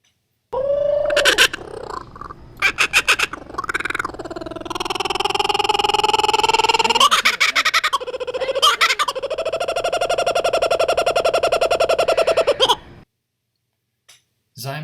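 An Australian kookaburra's laughing call rises in loud, rapid cackling bursts that swell into a long, sustained chorus of harsh rhythmic hoots before cutting off abruptly near the end.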